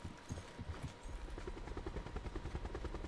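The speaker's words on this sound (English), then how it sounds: "Get in the chopper." Helicopter in the Call of Duty Blackout video game, a steady loud rotor chop with dense low-end thumping throughout, close and continuous, with game noise around it.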